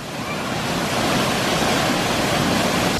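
Dense, unbroken roar of a huge waterfall on a hike near Seattle, loud and close, a steady wash of noise with no talk.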